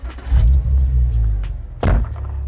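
The 2.5-litre petrol engine of a 1997 Porsche Boxster cranks and fires into a loud, low rumble at close range, followed by a heavy thump as it settles into a steady idle.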